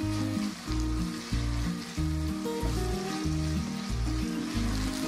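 Onions fry in a shallow layer of oil with a steady, close hiss and sizzle, while rhythmic background music with a pulsing bass line plays throughout.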